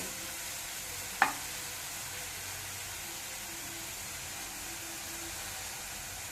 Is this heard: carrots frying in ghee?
yes